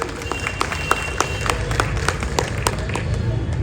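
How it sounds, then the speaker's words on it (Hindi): An audience at a party workers' conference claps for K K Mathur, a lively round of sharp overlapping hand claps with a voice carrying beneath them. "जोरदार ताली हो जाए उनके लिए।"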